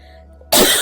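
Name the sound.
coughing fit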